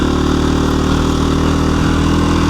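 KTM 350 EXC-F dirt bike engine on a trail ride, a loud steady four-stroke drone holding close and even throughout with no talk over it.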